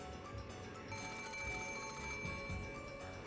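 An old-style non-mobile telephone rings in the Umineko visual novel, a steady electronic bell tone with sustained harmonics, held at an even level alongside background game music.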